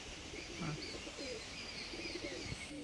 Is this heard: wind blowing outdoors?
no